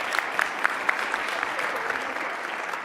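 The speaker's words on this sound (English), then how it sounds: "Amazing. Yeah, round of applause." Audience applause at a storytelling talk for IT leaders: a short burst of steady clapping from a modest crowd, fairly close and even, lasting a few seconds.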